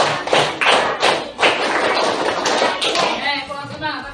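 A classroom of pupils claps a counted concentration routine: sharp, close hand claps in uneven groups, each clap cut off short, with voices chanting along throughout.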